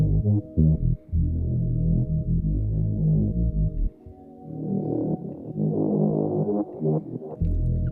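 A deep synthesizer plays sustained, warbling chords with a thick, wavering chorus texture, the notes shifting every second or so.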